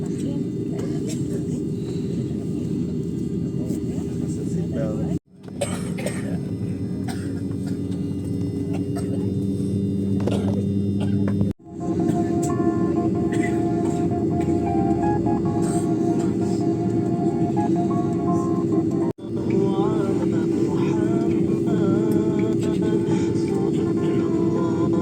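Steady low drone of passenger airliner engines idling in the cabin before takeoff, loud and constant with brief dropouts, while a crew announcement plays over the hum.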